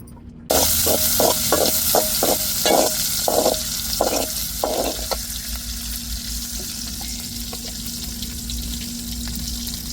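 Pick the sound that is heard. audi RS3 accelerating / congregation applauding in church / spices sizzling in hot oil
spices sizzling in hot oil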